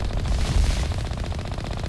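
Rapid automatic gunfire from a firefight in the video game Mass Effect 1, loud close bursts in a fast steady rhythm that keep going without pause, with no speech over it.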